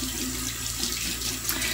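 Tap water runs steadily as a safety razor is rinsed under it, a close, continuous splashing hiss with no pauses.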